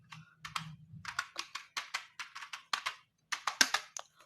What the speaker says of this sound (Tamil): இப்போ நம்ம இந்த கீபோர்டு கீ டைப் பண்ணால் சவுண்டு வர்றா இல்லையா டெஸ்ட் பண்ணலாம்